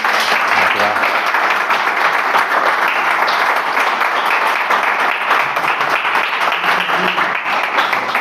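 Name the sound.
audience applause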